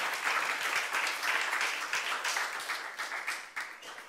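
A church youth-group congregation applauds during a sermon, a full, sustained wash of many hands clapping that thins slightly toward the end.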